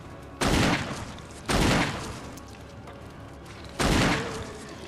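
Three gunshots fired in the video game Resident Evil HD Remaster, loud sharp blasts with short decaying tails, spaced unevenly over a few seconds.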